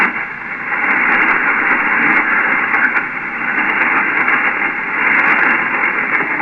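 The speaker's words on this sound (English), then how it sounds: "That fan noise is getting pretty rough on you, Ronnie." Steady, rough whooshing fan noise rides over a band-limited 80-meter ham radio channel, a continuous hissy roar with slight swells and no clear voice.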